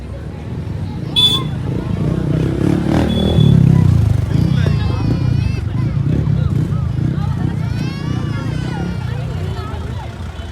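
A traffic jam on the road toward Dhanolti near Mussoorie, with idling cars and motorcycles, a brief horn and a steady rumble of engines beneath close, continuous chatter from people nearby.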